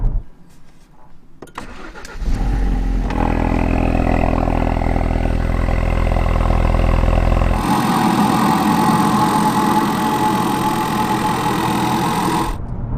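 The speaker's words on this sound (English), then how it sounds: "here's what an engine with just 400 miles on it sounds like when it's ticking over on a cold startup" A Ford Focus RS engine with 400 miles on it cranks and catches on a cold start, then settles into a loud, steady idle. The pitch of the running engine shifts partway through.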